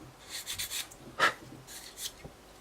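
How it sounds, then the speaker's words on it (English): Plastic seams on the intake of a Tamiya 1/32 F-16 model kit being rubbed down, soft close scratchy strokes in short repeated bursts, fairly quiet. "just rub away till all the lumps and bumps are gone"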